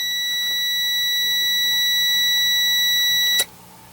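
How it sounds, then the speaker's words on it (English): A tester probe on the capacitors of a Yamaha integrated amplifier gives a single steady, piercing electronic beep while the capacitor charges. The tone holds loud and unbroken for over three seconds, then cuts off abruptly into quiet. "That beep is simply because the capacitor is charging"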